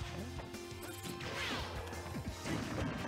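Forward smash attack hits in a Super Smash Bros match land as sharp, heavy crash impacts over game sound and background noise, with no talk in the clip.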